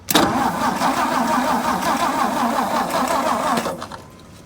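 A 1963 Ford F100 engine cranks and catches for the first time in years, settling into a steady, rough, loud idle nearby before tapering off near the end.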